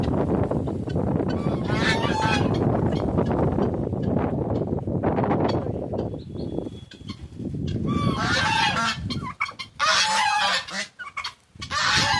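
Chickens at a rural harvest festival cluck and squawk in scattered bursts, some close and loud, over steady outdoor background noise and wind buffeting.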